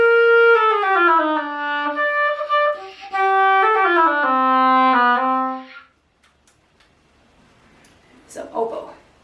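Short oboe solo in an orchestral instrument demonstration: a slow, plaintive melodic line of sustained reedy notes for about six seconds, then near silence with a faint rustle at the end.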